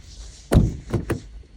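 A used car's door being opened and shut, one solid close thunk followed by two quicker lighter knocks, close by and brief.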